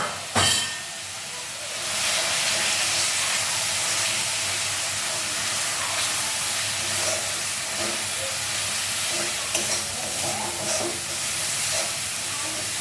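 Turmeric, coriander-cumin powder and Kashmiri chilli sizzle in a hot pan, a steady loud frying hiss that runs throughout after a sharp clatter at the start.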